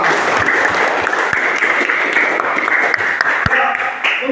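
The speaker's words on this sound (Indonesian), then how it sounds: "Kita berikan aplaus buat kita semua." A room full of people at an Indonesian religious gathering breaks into sustained applause, a dense, loud patter of many hands clapping steadily for several seconds.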